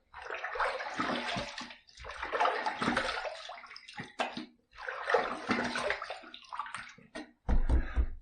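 After a shave with Williams mug soap and a vintage Gillette Slim razor, water runs from a tap in several loud bursts with short gaps between them, splashing close by.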